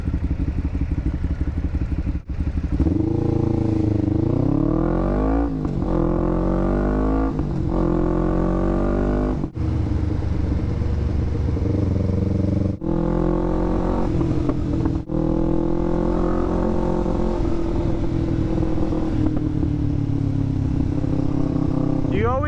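A loud Kawasaki Ninja 500R motorcycle lane splitting through traffic during Monterey Car Week, its engine droning and rising repeatedly through gear changes, close and continuous with brief dips between shifts, heavy wind rumble underneath.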